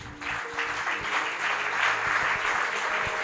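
A church congregation applauding at an evening revival service, steady dense clapping from a crowd that fills the room throughout.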